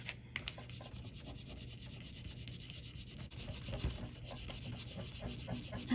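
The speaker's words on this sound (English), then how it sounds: "And I'm just rubbing and rubbing and rubbing." Hand rubbing a Dixie Belle paint transfer onto a small wooden surface, a continuous close scratchy rasp with a quiet low hum underneath and no talking.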